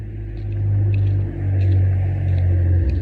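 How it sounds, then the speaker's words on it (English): A car passes with a loud, deep engine rumble that swells and holds steady for a few seconds before fading, carrying no speech. "is that an amazing car? I don't even know which car that is, but it made a crazy sound"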